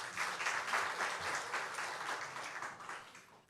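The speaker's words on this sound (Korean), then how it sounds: "박수로 환영하겠습니다." A church congregation applauds to welcome a deacon forward to share reflections on a mission trip to Fukuoka, steady dense clapping for a few seconds that tapers slightly at the end.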